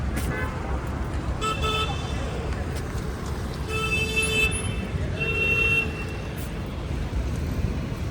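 Busy road traffic outside a 2019 Maruti Brezza ZDi AMT, with several short car horn toots over a steady low roadway hum.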